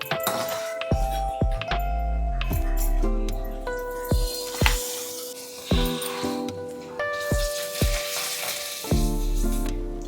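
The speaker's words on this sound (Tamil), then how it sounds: "நம்ம முதல்ல இதெல்லாம் பொரிச்சிடலாம்." Papad sizzles steadily in hot oil, with occasional clinks and scrapes of a utensil against the pan.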